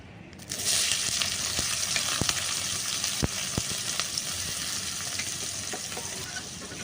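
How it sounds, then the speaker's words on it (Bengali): Chopped onions hit hot oil in a pan for a shellfish curry, bursting into a loud, steady crackling sizzle after a brief quiet start, with a few sharp clinks of stirring cutting through. "এবারে আমি পেঁয়াজগুলো সব দিয়ে দেবো যে পেঁয়াজগুলো আমি কেটে রেখেছি"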